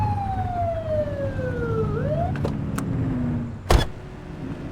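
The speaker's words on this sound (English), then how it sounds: "Get behind them and blip the siren to make them pull over" A police car siren in the video game The Precinct gives a few short rising and falling electronic wails over a steady engine drone, ending in a sharp bump.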